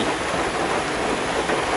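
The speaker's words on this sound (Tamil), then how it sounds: "மழை பெய்யுது பாருங்க நம்ம முக்கியமான நேரத்தில் மழை பெய்யுங்க" Steady rain falls outdoors while beehive boxes are being moved to another farm, a dense, even hiss of drops throughout with no voices.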